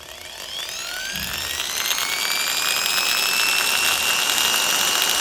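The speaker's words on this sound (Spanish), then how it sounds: "el taladro ahora está funcionando, obviamente, más rápido que el capacitor anterior, pero mucho más lento que su velocidad nominal" A single-speed electric drill whirs steadily, slowed by a capacitor wired in, its high motor whine holding a rising, sustained pitch with harmonics, loud and alone throughout.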